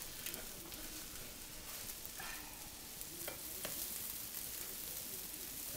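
Pancake batter sizzles steadily in a pan, a soft broadband frying hiss with a few light scrapes and clicks, fairly quiet and without talk.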